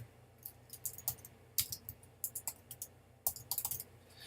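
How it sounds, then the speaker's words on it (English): Typing on a computer keyboard during Photoshop work: quiet, irregular bursts of crisp key clicks, some in quick clusters, separated by short pauses, close and fairly faint. "I'm going to type in my name"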